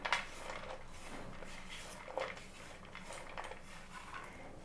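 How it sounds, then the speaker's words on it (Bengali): Small chopped mango pieces are mixed with flour in a bowl for an eggless mango cake, with quiet spoon clinks and soft scrapes against the bowl in a calm, close setting. "এগুলোকে আমি একদম ছোট্ট ছোট্ট করে কেটে নিয়েছি কেকে দেওয়ার জন্য এবারে আমি ময়দা এর সাথে মিশিয়ে দিচ্ছি"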